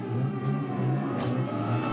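A 750 racing motorcycle revving high on track, heard briefly and at a distance as a faint, steady engine whine.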